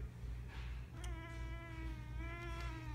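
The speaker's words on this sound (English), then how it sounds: "let's say hi to the cat as always" A cat lets out a drawn-out, wavering meow close by, soft and somewhat quiet over a low background hum in a shop.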